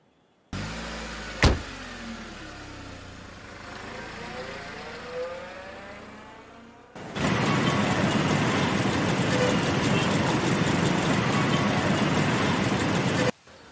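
A car engine starts with a sharp crank and then idles with a low hum. It grows into a loud, steady roar as the vehicle drives off.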